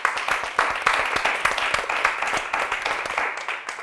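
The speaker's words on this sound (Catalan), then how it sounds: "un fort aplaudiment per ell" A studio audience on a Catalan TV word game show claps loudly and rhythmically, dense applause sustained throughout with a slight fade near the end.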